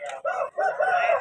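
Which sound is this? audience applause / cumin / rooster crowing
rooster crowing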